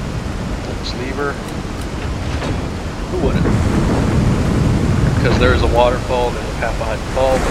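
In Resident Evil 4, a waterfall and strong rapids give a continuous, loud rushing roar that swells partway through, with faint speech-like fragments over it.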